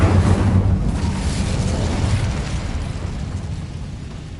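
A burst of fire from the Incendio spell in Hogwarts Legacy, a loud, broad whooshing roar that starts strong and slowly fades over a few seconds.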